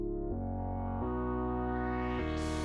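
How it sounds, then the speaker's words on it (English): A basic, warm sine-wave synth preset with gentle LFO movement, playing sustained tones that shift pitch a few times and brighten toward the end, steady and alone. "so it's very basic sine, but nice and warm"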